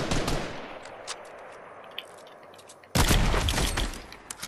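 Fortnite Battle Royale gunfire, a sharp burst of shots opening the clip and a heavier volley near the three-second mark, loud and close with scattered cracks between.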